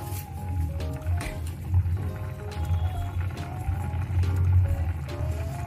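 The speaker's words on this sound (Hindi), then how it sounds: "आपको खौलते पानी में थोड़ा सा तेल डाल के मैक्रोनी को इस तरह से डाल देना है" Dry macaroni tipped into a pot of boiling water with a little oil, giving a steady bubbling, liquid churn with soft splashy bursts close by, continuous throughout with no talk.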